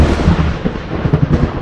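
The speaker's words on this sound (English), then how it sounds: "Then another loud crack of thunder happened" A loud crack of thunder during a storm, a dense, close, rumbling roar that fills the moment with heavy low-end booms and uneven surges.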